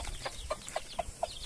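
A hen clucking to her chicks on a small countryside farm, giving a short series of soft, evenly spaced clucks, about one every quarter second, moderately close against quiet outdoor background.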